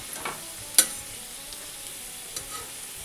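Vegetables fry in a pan in a home kitchen, faint sizzling under quiet scrapes and taps of a spatula stirring, with one sharper clink.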